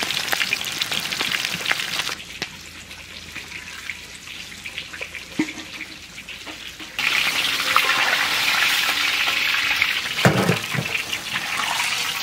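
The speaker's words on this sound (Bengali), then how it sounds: "কাতলা মাছের মাথা ভাজা হয়ে গেছে" A katla fish head fries in hot oil, a dense crackling sizzle that runs continuously and close, growing louder and busier partway through, with no voices.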